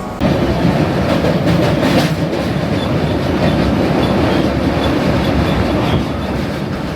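A long-distance train runs on the rails with a loud, steady rumble and rhythmic clickety-clack heard from inside the carriage, continuous throughout with no voices.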